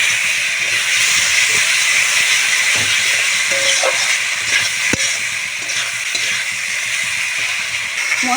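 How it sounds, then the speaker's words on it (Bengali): Turmeric, chili powder and salt fry in hot oil for a tilapia curry, giving off a steady bright sizzle and hiss that runs unbroken, close and fairly loud, with the odd scrape of stirring. "ভালো করে আমি কষিয়ে নেব মশলাগুলো।"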